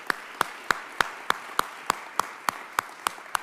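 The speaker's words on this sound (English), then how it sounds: "we'd like to give you a round of applause" A slow, evenly spaced run of about a dozen crisp claps stands out against a low background murmur. The audience is standing to applaud a man at a weekend event.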